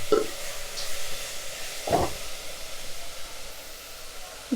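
Onion, tomato, ginger and garlic sauté in a pan with coconut rice under way, giving a soft, steady sizzle with a couple of brief stirring scrapes and no talking.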